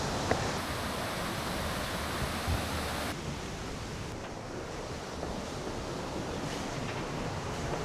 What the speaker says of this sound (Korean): 중간중간 심심하지 않게 이렇게 폭포로 재미를 주네요.